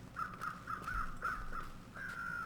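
Crows caw in a quick run of harsh calls, six or seven in a row with a longer final caw, moderately near against a quiet outdoor hush.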